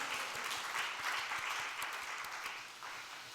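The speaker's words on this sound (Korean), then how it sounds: "그 하나님께 박수로 영광 올려드리겠습니다" A church congregation applauds together in a dense, sustained clatter of many hands that fades slightly toward the end, with no speech over it.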